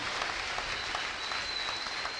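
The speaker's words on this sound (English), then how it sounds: "Will you give a better clap of faith to Jesus Christ?" A congregation claps together for Jesus Christ during a church testimony service, a steady dense wash of many hands at moderate level with no speech over it.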